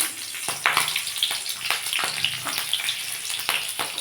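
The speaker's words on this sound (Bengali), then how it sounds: "তেলটা আমার গরম হয়ে গেছে আমি এতে কটা কাঁচা লঙ্কা দিয়ে দিলাম" Green chilies hit hot oil in a pan for a pickle of hog plum, crackling with a steady sizzle and sharp spitting bursts and pops throughout, close and fairly loud with no talking.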